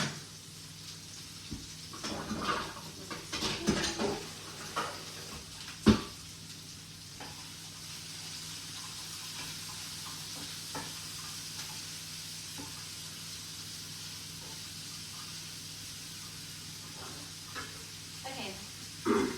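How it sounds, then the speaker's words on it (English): Enchilada ingredients sizzling quietly in a pan, a soft steady frying hiss with occasional stirring clatter early on, faint and close. "That's frying away beautiful."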